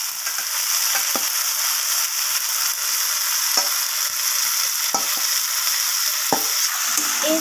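Fried potatoes and brinjal are sautéed with spices in a pan for a hilsa curry, giving a steady close sizzle broken by scattered spatula scrapes and knocks.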